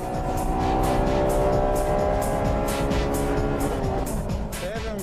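A Honda Type R race car on track, its engine droning loud and sustained close by with strong harmonic whine through a long pull, easing slightly near the end as it overtakes.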